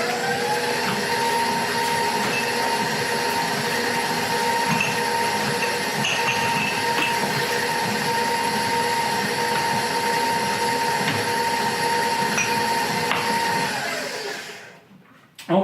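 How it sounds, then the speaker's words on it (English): An electric mixer beats gluten-free sticky toffee pudding batter with a loud, steady whirring motor hum that runs unbroken for about fourteen seconds, then winds down and stops. "I'm going to mix all that up. And while it's mixing"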